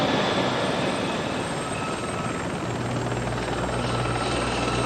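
A military Apache helicopter flies overhead, its rotor thudding in a loud, steady roar throughout with a low engine hum, no voices.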